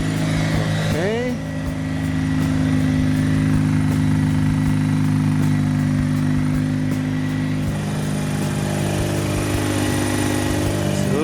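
A Mazda RX8 rotary engine runs steadily after being deflooded, a loud continuous idle hum with strong low harmonics, and a voice talks briefly near the start.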